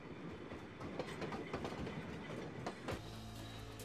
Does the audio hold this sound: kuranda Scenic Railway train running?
yes